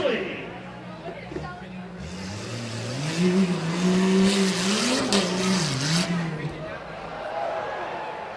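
A 1990 Jeep Escalade races at a Medina County rough truck event, its engine revving and rising in pitch with some tire noise while an announcer talks over a public address system.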